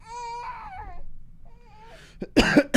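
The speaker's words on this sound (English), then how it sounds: "I'm coughing into the mic." A few harsh coughs burst out close to the microphone at the end, after a thin wavering whine.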